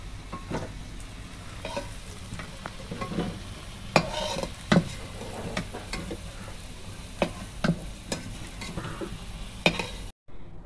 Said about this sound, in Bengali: এই একই তেলে এবার আমি ফোড়নে দেব গোটা তেজপাতা, শুকনো লঙ্কা, এলাচ আর দারচিনি দিয়ে দিচ্ছি।